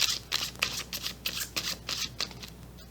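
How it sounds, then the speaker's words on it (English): Tarot cards being shuffled by hand in quick, rhythmic bursts of riffling and flicking, about eight close papery strokes over a few seconds with no one speaking. "Let's pull some more cards."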